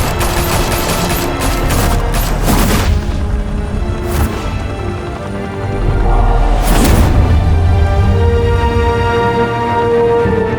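Video game gunfire in Batman: The Telltale Series, loud bursts of rapid automatic shots and booming blasts in repeated volleys over a sustained battle din.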